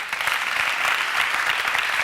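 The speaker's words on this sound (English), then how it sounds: "A round of applause to our first debate" A studio audience applauds after the first leaders' debate on a gender-based violence show, steady dense clapping filling the room alone for about two seconds.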